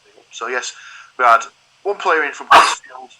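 A single sharp, loud sneeze bursts out near the end of casual podcast-style talk between people discussing football, cutting in between spoken phrases.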